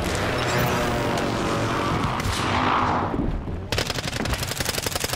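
Rapid automatic gunfire aimed at a helicopter in Warzone, Urzikstan map, dense bursts over a loud battle din, giving way near the end to sharp separate shots.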